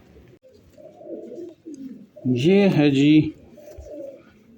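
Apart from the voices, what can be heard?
caught pigeons cooing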